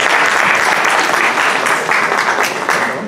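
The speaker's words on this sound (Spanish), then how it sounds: "con este aplauso terminamos nuestra sesión" A seated audience at an academic bioethics session in Mexico gives sustained, loud applause, a dense even patter of many hands that holds steady for several seconds before easing slightly, with no voices on top.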